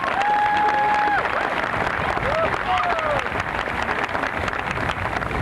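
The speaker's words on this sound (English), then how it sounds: "with a round of applause" Audience at a high school commencement applauds steadily throughout, a dense wash of clapping from a crowd with some cheering and whistles mixed in.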